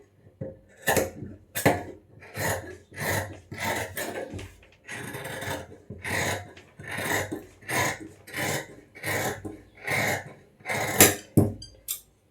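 Fabric for a 37-inch blouse being cut with tailoring scissors, repeated crisp snipping strokes in a steady rhythm of about a dozen close cuts, no talk.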